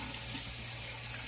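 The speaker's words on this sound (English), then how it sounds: "Let's go ahead and get my face wet." Water runs steadily from a bathroom tap into a sink, a close, continuous hiss and splash with no talking.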